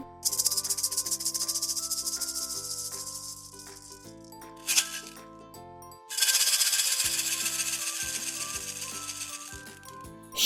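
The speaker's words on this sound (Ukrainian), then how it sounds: "Відгадали маракаси." Maracas shaken in a children's instrument-guessing game, giving dense bursts of hissing, rattling beads in long sustained stretches with a brief pause and sharp shake between them, fairly loud and alone.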